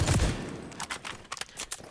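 Gunfire in XDefiant: a heavy shot opens, then a run of quicker, lighter reports pops at a steady clip, moderately loud with no talk.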